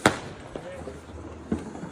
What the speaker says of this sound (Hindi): तो अभी पटाखा बमबारी स्टार्ट हो चुकी है